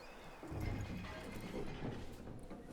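Horse hooves clopping with a whinny in Red Dead Redemption 2, set in snow as the horse is hitched up; steady close thudding with a low neigh early on, no talk.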